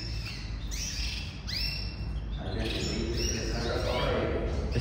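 A small caged songbird, a coleiro or similar finch, gives soft whistled chirps and short sweeping notes over a steady background hiss. The song stays quiet and fairly distant, with no voices.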